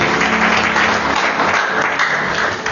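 A church congregation applauding at a sermon, loud sustained clapping from many hands that fills the space and eases slightly toward the end.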